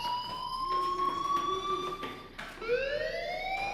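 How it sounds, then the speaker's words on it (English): A fire alarm in the video game Life Is Strange rings continuously, its tones sweeping slowly and then restarting after a short break, with faint background game sounds and no speech. "Hey, do you hear that fire alarm?"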